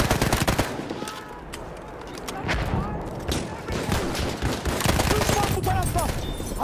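Machine-gun fire in the World War I shooter Battlefield 1, with dense rapid bursts up front and bursts of gunfire continuing through the clip amid battlefield noise and loud, close shooting.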